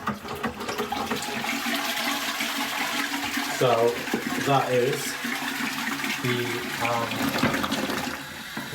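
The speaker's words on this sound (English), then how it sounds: "I have noticed that this isn't flushing right, it takes 2 or 3 pumps." A cloakroom toilet with a split siphon diaphragm flushes weakly, giving a gushing rush of water in uneven surges as the lever is pumped repeatedly, while someone talks over it.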